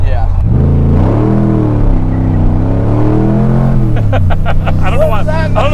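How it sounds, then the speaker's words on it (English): 1964 Superformance Daytona Coupe engine revving hard, pitch rising and falling through a long loud pull, then sharp rapid bursts as the tires break loose, with talk and engine noise throughout. "I just wanted to try to break the tires loose"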